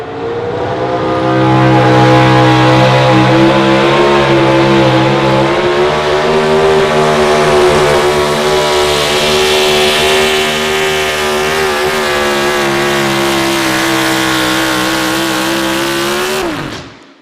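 Outlaw Pro Stock 4x4 pulling truck with a Chevrolet engine, green on one half and gray on the other, roaring loud and close at a Missouri State Fair truck pull, holding a steady high-revving drone throughout before cutting off abruptly at the end.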